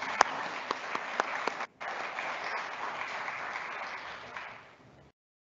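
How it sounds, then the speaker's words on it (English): Applause from the audience fills a conference hall at the closing plenary session, a steady wash of clapping with a brief cutout that fades out after about four seconds. "Give them a big round of applause,"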